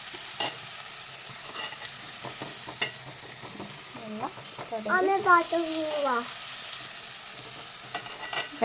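Food in a pan gets stirred at a steady pace, giving a soft sizzle and scraping strokes, while a child and an adult talk nearby.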